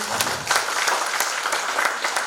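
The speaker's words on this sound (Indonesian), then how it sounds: "Tepuk tangan dulu untuk panitia." At the opening of a disaster risk reduction workshop, the audience applauds the organizing committee with a steady, dense patter of clapping from many hands, with no voices.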